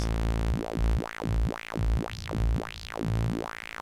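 A Korg MS-20 synthesizer drones steadily while its resonant high-pass filter peak sweeps up and down in repeated whooping arcs, loud and close, with no voices.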